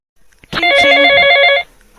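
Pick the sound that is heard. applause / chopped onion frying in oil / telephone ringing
telephone ringing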